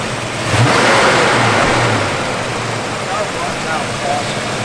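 A 1986 Ford Mustang LX engine revs up loudly and close by, then holds at a rougher, steady roar for a few seconds.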